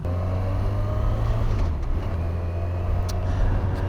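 A steady Yamaha 900 Diversion motorcycle engine drone runs throughout while riding, with a strong low hum, loud and close, with no talking over it.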